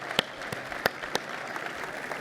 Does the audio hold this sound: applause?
yes